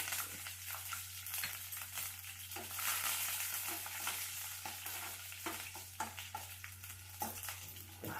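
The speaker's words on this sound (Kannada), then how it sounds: "ಈ ಎಣ್ಣೆ ಕಾದಿದೆ ಸಾಸಿವೆ ಹಾಕೊತಾ ಇದ್ದೀನಿ ಮತ್ತು ಜೀರಿಗೆ ಹಾಕೊತಾ ಇದ್ದೀನಿ ಇದು ಕರ್ಬೇವಿನ ಸೊಪ್ಪು ಮತ್ತು ಬೆಳ್ಳುಳ್ಳಿ" Mustard seeds, cumin, curry leaves and garlic sizzle and crackle in hot oil for a lemon pickle tempering, a steady close frying hiss with scattered pops and stirring clinks throughout, no talking.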